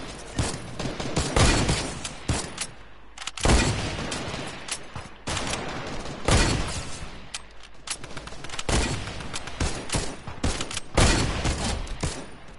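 Sniper rifles and other weapons fire in an online shooter video game, loud repeated blasts and volleys rolling through the whole stretch with short gaps between bursts, no talk.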